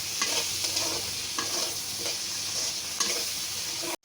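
Garlic paste frying in a pan while being stirred, a steady close sizzle broken by rhythmic spoon scrapes roughly every half second to second, ending abruptly.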